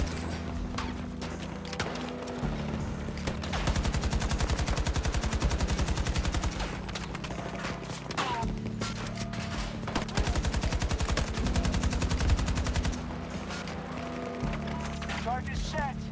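Rapid AK rifle fire in a video game crackles in long, dense bursts, loud and close, with brief pauses between volleys and voices talking over the shooting.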